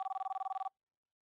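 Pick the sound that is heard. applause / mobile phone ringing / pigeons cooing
mobile phone ringing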